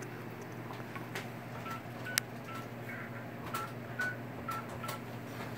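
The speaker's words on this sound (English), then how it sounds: "I'm going to call the cell phone from my home phone" A home landline phone dialing a cell phone number, a series of short keypad tones spaced unevenly over a quiet, steady room hum.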